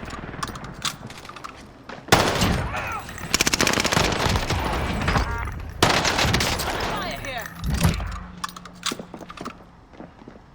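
Bursts of automatic and single-shot gunfire crack through a Warzone video game match, loud and near, with rapid volleys broken by brief pauses and in-game voices speaking over the action.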